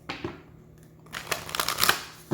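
Tarot cards are riffled and slid together in short papery bursts, a brief rustle, then a louder run of flicking, close up and alone.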